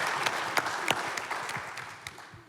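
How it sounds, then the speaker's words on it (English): Audience applause at a morning live TV broadcast of a 24-hour business plan challenge, a moderately near burst of many hands clapping with sharp individual claps standing out, tapering off toward the end. "big round of applause for all of these folks"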